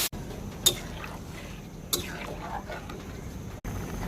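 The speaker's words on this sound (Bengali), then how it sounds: "কয়েক মিনিট ভালো করে ভাজার পরে দিয়ে দিচ্ছি পানি।" Water is poured into a frying pan of taki fish fried with chili, turmeric, ginger and garlic, giving a few brief splashing bursts over a steady low sizzle.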